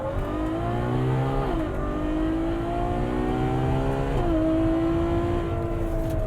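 A Ferrari FF shooting brake in sport mode launches hard with its all-wheel drive, the engine note climbing steadily through two quick upshifts, loud and continuous from close by.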